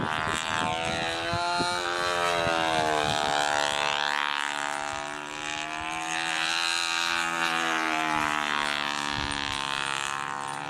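A 2-4 brake gives off a loud, continuous droning whine with strong layered harmonics that slide slowly up and down in pitch across the whole stretch.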